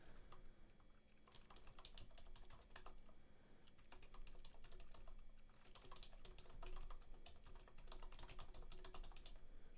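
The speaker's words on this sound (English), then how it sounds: "It's a mechanical keyboard." Loud keys clack steadily on a mechanical computer keyboard, a dense, fast stream of close-miked keystrokes lasting about ten seconds, with no talking.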